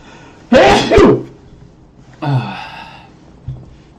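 A person sneezes loudly and sharply, with a quick double burst up close, then comes a softer breathy exhale and a small thump in an otherwise quiet room.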